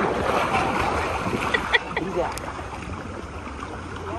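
A boat moving across the water off Cyprus, a close, steady rush of water and wind with a brief knock, as a voice speaks over it.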